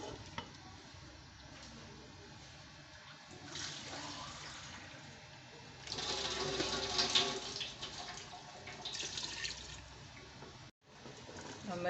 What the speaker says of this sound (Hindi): तो इसमें मैं पानी डाल रही हूँ।